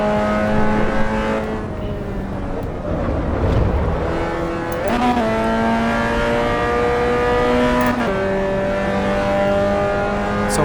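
Race car engine in the racing game Assetto Corsa EVO, a loud, continuous engine drone that climbs in pitch and drops with gear shifts partway through, with no talking.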